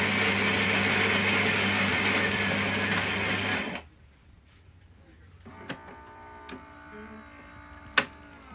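A Philips Saeco Xsmall coffee machine runs with a loud, steady mechanical hum and buzz for a few seconds, then cuts off abruptly, leaving faint clicks and a sharp knock in the quiet that follows.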